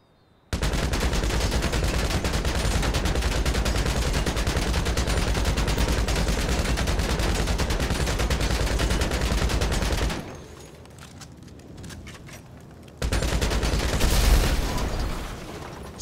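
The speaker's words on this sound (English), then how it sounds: "The first weapon up is the Combat Mark II machine gun, and it's still got its incendiary ammo." A Combat Mark II machine gun loaded with incendiary rounds in Grand Theft Auto fires one long, unbroken burst of rapid shots, loud and close, then stops briefly before a shorter burst with a booming hit.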